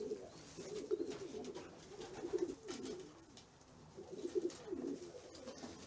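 Young racing pigeons coo inside a loft, repeated soft throaty calls rising and falling in overlapping bursts from several birds nearby.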